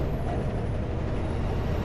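Steady loud hiss of compressed air from a truck's air-actuated differential lock, continuous and even without a distinct click standing out.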